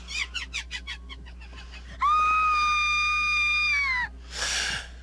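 A character in the Corpse Party video game screams, a long piercing high-pitched shriek held for about two seconds after choppy rapid cries, followed by a shorter breathy burst.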